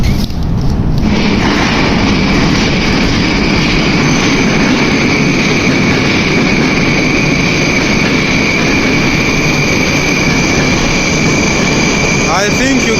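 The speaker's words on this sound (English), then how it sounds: "I think you can even tell from the sound that this metro is quite different" Moscow metro train running at night, a loud continuous rumble and roar of wheels and motors with a steady whine, brief squeals near the end.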